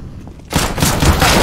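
Gunfire in a shooter video game bursts in after a quiet moment, a loud rapid volley of shots and booms filling the rest of the clip.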